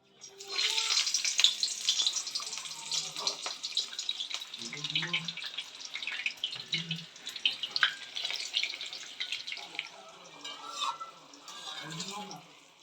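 Mirchi bajji, battered green chillies, frying in hot oil with a steady, bright crackling sizzle that lasts throughout, while someone speaks quietly now and then.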